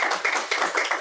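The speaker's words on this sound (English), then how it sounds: "Could you please give her a round of applause?" Audience at a law and technology policy hackathon giving a round of applause, quick crisp claps from a modest crowd, close and steady, with no talk over them.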